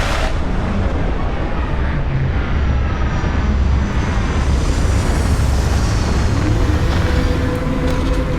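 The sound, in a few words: spaceship setting down for landing in the video game Starfield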